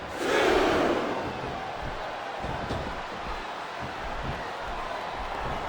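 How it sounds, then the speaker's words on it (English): A wrestling arena crowd in the WWE SmackDown vs Raw 2007 video game, cheering as a broad, steady roar that swells loudest at the start and then holds at a constant level, with no clear words. "This capacity crowd is on its feet."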